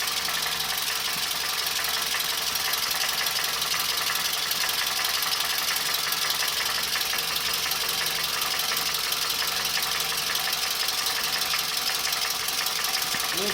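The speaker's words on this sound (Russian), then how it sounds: "Вот долбит что-то в моторе, блин, металлическое." A Toyota Camry engine with a metallic knock runs steadily, a continuous mechanical clatter with a fast rhythmic tapping over a hum, close and loud without a break.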